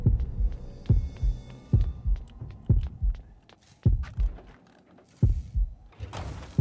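A steady heartbeat warning sound in the video game Horrorfield thumps in low, doubled pulses about once a second, with a faint hum and scattered clicks between the beats.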